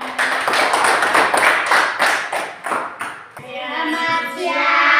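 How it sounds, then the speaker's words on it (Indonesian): A small classroom group claps for a presenting group after a discussion session, a short burst of close, loud individual hand claps with uneven rhythm that fades out as someone begins speaking. "mari kita tepuk tangan untuk kelompok 1 yang sudah mempresentasikan hasil diskusinya."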